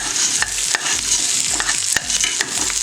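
Bouillon toasting in hot oil for a poor man's soup: a loud, close, continuous sizzle with regular stirring scrapes and clicks against the pot.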